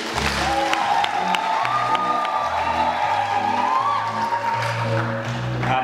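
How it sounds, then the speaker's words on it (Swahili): Applause and joyful ululation rise from a congregation at a Catholic Mass for a graduation, a steady loud wash of clapping with high trilling cries riding over it throughout. "Tunaomba tumpongeze Mwenyezi Mungu kwa kupigia makofi na vigelegele"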